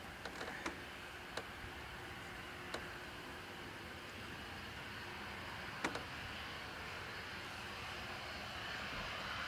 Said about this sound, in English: Next arrival, Ryanair from Gatwick